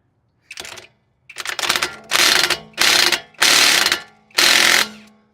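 A power tool loosens a brake caliper bolt on a 2005–2010 Honda Odyssey, rattling through about six loud, close bursts of hammering ratchet clatter separated by short pauses.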